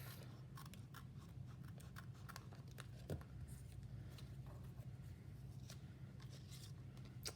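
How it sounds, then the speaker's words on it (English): Paper snips trimming paper during a floral paper craft, with quiet, repeated crisp snipping cuts in an irregular rhythm at close range over a low background hum. "We'll get the paper snips."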